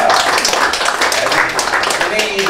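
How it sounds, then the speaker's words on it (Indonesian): An audience claps in a dense, continuous burst of applause at a press gathering, many hands close and loud, with voices mixed in beneath. "Ya, tepuk tangan dulu dong"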